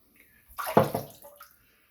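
A razor is swished through water in a sink, making one brief, close splash and swirl of water. Quiet dripping follows before it fades to silence.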